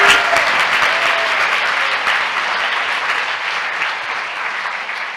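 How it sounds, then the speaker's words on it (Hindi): A church congregation at a Hindi-language sermon breaks into loud, sustained applause from many hands. The clapping fills the room and fades slowly over about five seconds. "आइए इस वचन के लिए ताली बजाएं।"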